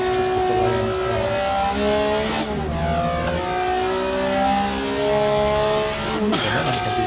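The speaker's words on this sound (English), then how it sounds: "I gotta rev it up quite a bit." A Capri touring car engine revs hard during a pre-season race at the Zolder circuit, its rising and falling harmonic whine loud and close throughout, with a sharp burst near the end.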